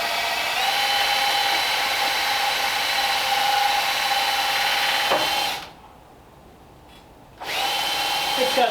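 A drill motor spins the lift screw of a vintage Walker car lift, a steady high-pitched whine that runs continuously, stops briefly for a quiet gap, then starts again, close and fairly loud.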